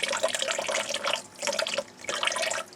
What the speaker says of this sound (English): she insists on running the tap and drinking from it